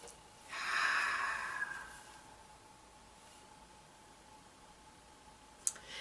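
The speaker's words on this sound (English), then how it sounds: "Another breath in through the nose." One slow, soft breath drawn in through the nose, a brief faint airy inhale in an otherwise quiet room.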